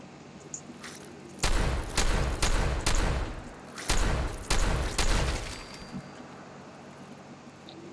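A run of close, loud shotgun blasts in Fallout 4, about eight booming shots in two quick bursts, each separated by short gaps, then quiet game ambience.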